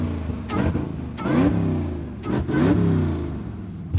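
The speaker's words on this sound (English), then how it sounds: "I almost can't tell if it's not running real well, or it's just the fact that half the exhaust is blown off of it." Chevrolet Camaro SS V8 with half its exhaust blown off, revving in bursts with a loud, rough, blatting note, several rising and falling pulls close by and no talking.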